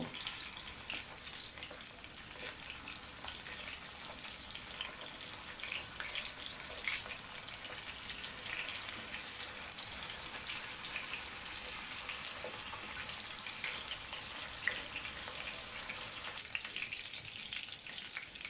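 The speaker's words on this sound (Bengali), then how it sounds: "ভালো করে এপিট ওপিট দুপাশ থেকে ভেজে নেব।" Chicken koftas fry in a pan of oil, turned to brown on both sides, giving a steady, even sizzle and crackle that runs unbroken from start to finish with no voices.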